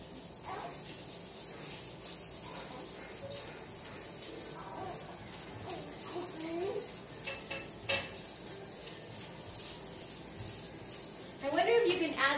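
Food sizzling softly in a home-cooked meal-kit dish, stirred in the pan with faint scraping strokes, quiet and steady beneath occasional speech.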